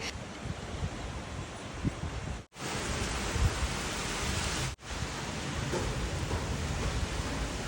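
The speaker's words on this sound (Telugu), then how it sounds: "వర్షం మళ్ళీ స్టార్ట్ అయిపోయింది" Steady rain falls outdoors on a farm, a dense continuous hiss with wind-like rustle, broken by two brief dropouts.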